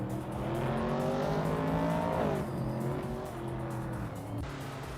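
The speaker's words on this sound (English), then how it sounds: "Ingelma Kringleberry is driving a 1965 Lotus 40, starting from third and currently holding second place" A 1965 Lotus 40 race car's engine in a racing video game, a steady loud whine rising in pitch and dropping at a gear shift, then climbing again, with other cars buzzing nearby.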